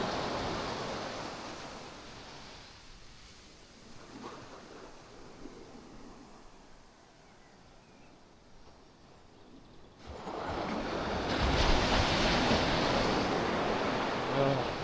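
Ocean surf on a broad beach at falling, low tide rolls in as a continuous wash of waves, easing quieter midway before swelling loud again, with wind buffeting the microphone.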